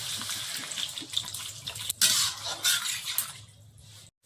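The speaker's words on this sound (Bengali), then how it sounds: "জল দিয়ে দেবো।" Water pours into a pan of fried green banana and potato with a gushing splash that turns into a hissing sizzle, then tapers off into quiet near the end.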